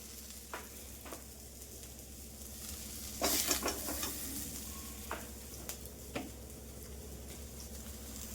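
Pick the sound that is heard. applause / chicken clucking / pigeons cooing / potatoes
potatoes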